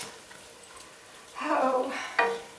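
Chicken chili cooking in a pan, a quiet background that swells into a brief sizzling, stirring rush, followed by a sharp clink of a utensil against the pan.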